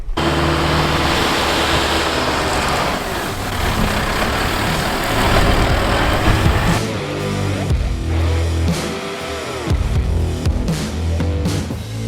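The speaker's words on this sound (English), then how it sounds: "my man Matt does his thing with the tractor and the granite" A heavy tractor engine rumbles and labors steadily, close by, with clanking and scraping as loose granite is pushed and spread at a campground, and no one speaking.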